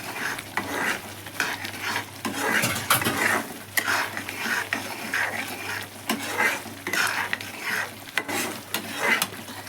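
Masala with turmeric and salt for a restaurant-style mushroom gravy, stirred and frying in a pan: steady close sizzle with repeated scraping strokes of a spoon against the pan, continuous for the whole stretch with no talking.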